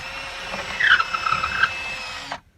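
A power drill whines steadily while drilling a pilot hole through a caravan wall, rising in pitch as it bites into the material, then cuts off abruptly into silence.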